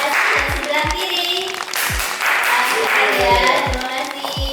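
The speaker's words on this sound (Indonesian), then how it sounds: "Boleh kasih tepuk tangan yang meriah dulu dari sebelah kanan" Audience applause from the right side of the hall at an Indonesian MC school event, a dense steady wash of many hands clapping at even loudness throughout, with thumps of low handling noise underneath.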